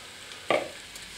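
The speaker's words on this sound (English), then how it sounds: "I'm going to add 2 cups of nicely sliced mushrooms. Just toss them straight in." Sliced mushrooms tossed into hot garlic-infused olive oil, giving a single short sharp sizzle that fades quickly against a quiet kitchen background.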